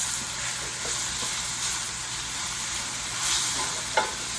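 Spinach being stirred as it wilts in a hot frying pan, a steady soft sizzle with light scraping of the utensil throughout, close and continuous with no talking.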